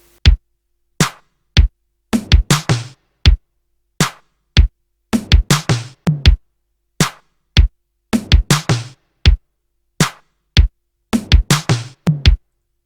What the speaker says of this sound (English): made a 80's drum pattern with one-shot drums, and it sounds like this